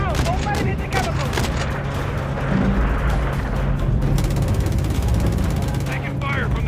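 Call of Duty MW3 gameplay gunfire, sustained bursts of automatic shots layered with explosions and a helicopter drone, loud and busy, with radio-style voices calling out over the combat.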